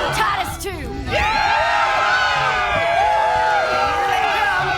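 Crowd cheering and whooping from a town's gathered residents in the video game Borderlands 3, a dense continuous roar of many voices with rising whistles and shouts after a short quieter opening.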